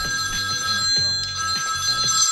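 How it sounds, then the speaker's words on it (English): A mobile phone rings steadily with a bright repeating electronic tone, loud and close, the pattern cycling several times with no talk over it. "Your phone's ringing, Sean."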